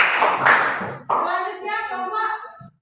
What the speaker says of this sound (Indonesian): Disilakan untuk kembali kita tepuk tangan bersama.